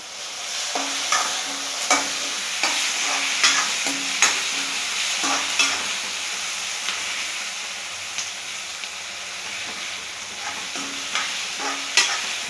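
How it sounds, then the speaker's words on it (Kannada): Egg masala fries in hot oil in a pan, sizzling steadily while a spoon scrapes and stirs it in repeated soft strokes, close and continuous. "ಮೆತ್ತಗಾಗಬೇಕು, ಚೆನ್ನಾಗಿ ಎಣ್ಣೆಲಿ ಫ್ರೈ ಆದರೆ ಚೆನ್ನಾಗಿರುತ್ತೆ, ಟೇಸ್ಟು ಚೆನ್ನಾಗಿ ಬರುತ್ತೆ"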